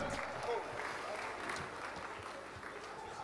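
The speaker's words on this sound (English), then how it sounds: "We want a big round of applause." Audience applause fills an awards show hall, a steady wash of clapping from a large crowd that holds at an even level throughout with no break.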